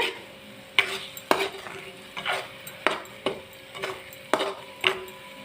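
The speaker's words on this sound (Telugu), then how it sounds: "రెండు నిమిషాలు స్టవ్ మీడియం ఫ్లేమ్లో పెట్టి మూత లేకుండానే వేయించాను" A vegetable curry fries uncovered in a pan over a medium flame, with regular close scrapes and clinks of a spatula against the pan and a soft sizzle underneath, no voices.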